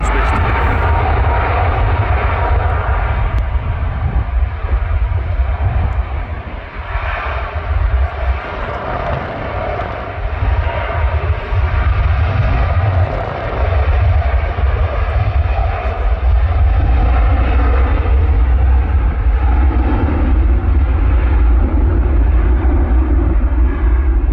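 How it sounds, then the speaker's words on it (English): Airliner engines at Manchester Airport as the jet taxis out toward its takeoff position: a loud, steady, broad roar and whine that continues for the whole stretch, with a brief dip partway through and no talking. "we're going to let it taxi out to its takeoff position and watch it turn and burn"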